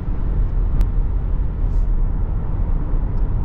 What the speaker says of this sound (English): it's driving on the road, so you're just hearing the tyre noise, which is minimal